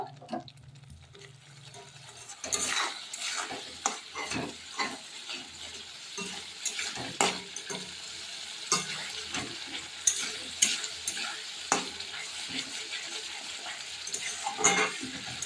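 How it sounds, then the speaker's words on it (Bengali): Spices with turmeric are sautéed and stirred in a pan for a Bombay duck fish dish, starting with a low hum, then a continuous sizzle broken by frequent sharp scraping and tapping strokes of a spoon against the pan. "আমি এখন মশলাটাকে ভালোভাবে একটু কষিয়ে নেব।"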